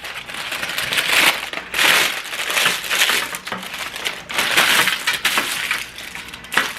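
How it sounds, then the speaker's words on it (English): Parchment paper is crumpled by hand in a home kitchen while baking cookies, giving loud, continuous crinkling and crackling in repeated bursts with no talking. "Crumple your parchment paper, and then it'll lay flat easier."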